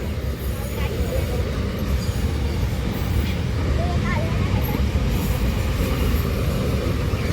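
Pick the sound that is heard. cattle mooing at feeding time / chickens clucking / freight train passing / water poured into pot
freight train passing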